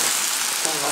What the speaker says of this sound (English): I have microphone all set to catch the sizzle